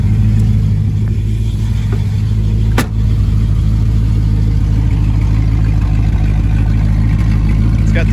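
A 1967 Shelby GT500 with four-speed and original muffler runs in cold weather, a loud, deep, steady engine drone with brief rises in pitch.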